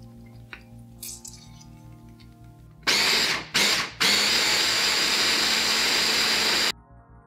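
Electric mixer blending a dip made with lemon juice and paprika: after some light clinks, the motor whirs on loudly, cuts out briefly twice, then runs steadily for about three seconds before stopping.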